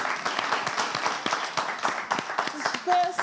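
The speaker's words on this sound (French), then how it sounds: "Applaudissez encore une fois." Audience applause after an exercise demonstration at a French community event, dense, steady clapping filling the whole stretch, with a brief voice or tone near the end.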